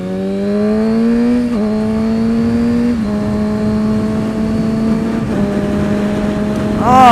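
A Kawasaki ZX6R motorcycle engine revs loud and close, holding high steady pitches that step up in several gear-like surges before a final sharp climb.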